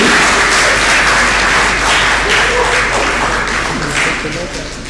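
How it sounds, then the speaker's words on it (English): Loud, dense applause from a large crowd at a book launch with voices mixed in, sustained and then fading near the end. "Big round of applause for Deana and Mr. Khan."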